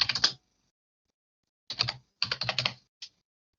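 Typing text on a computer keyboard, close and crisp: a short burst of key clicks, a pause, then two more quick runs of tapping and a single final keystroke.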